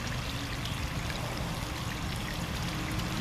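Dirty swimming-pool water draining out through a hose, a steady close splashing and trickling flow with no breaks and no voices.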